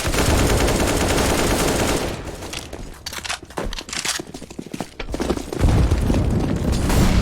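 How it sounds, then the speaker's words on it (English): Gunfire and explosions in the CS:GO video game, loud bursts at the start and end with a sparser run of sharp shots and a blast in between, no talk. "I am throwing a grenade."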